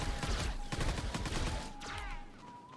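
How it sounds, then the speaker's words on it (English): Missiles fire in a Star Wars video game as a rapid burst of loud, close blasts and whooshing launches, with a dense volley easing off toward the end. "would you stop with the missiles?"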